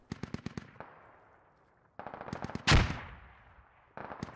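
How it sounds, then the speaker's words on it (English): Gunfire and explosions from the military shooter game Squad: bursts of rapid automatic fire, a pause, then more shots and a loud nearby blast with a rumbling tail, followed by further gunfire. "Oh, I heard a explosion."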